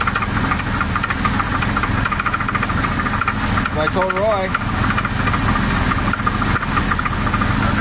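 A Chevy S10 4x4 engine idling with a suspected rod knock, a steady, loud rumbling mechanical knock running throughout, with someone talking briefly over it.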